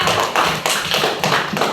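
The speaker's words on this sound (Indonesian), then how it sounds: "Kasih tepuk tangan untuk kelompok 3." Classmates in a primary school classroom clapping for a group of pupils, a close, loud round of dense hand claps with rhythmic surges, continuing steadily throughout.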